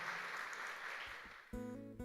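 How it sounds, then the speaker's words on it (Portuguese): Applause from a church congregation fills the room as a dense, even patter that thins slightly before a held keyboard chord enters near the end. "Você pode aplaudir Jesus?"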